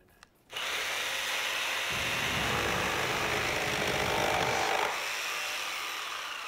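A power tool runs steadily and loudly for several seconds after a brief quiet start, with a grinding, rasping whir that suggests cutting or drilling through wood.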